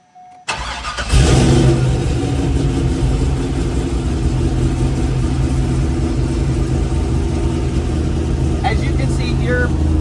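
Supercharged C5 Corvette engine cranking and catching, then settling into a loud, steady high idle right up close, with a brief voice near the end.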